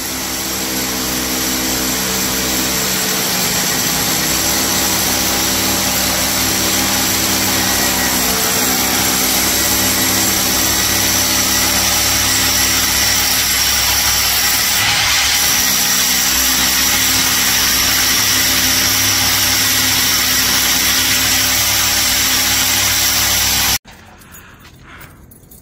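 Power drill boring a hole through a wall to install an AC unit at a showroom, a loud, steady whine that keeps going for over twenty seconds and then stops abruptly.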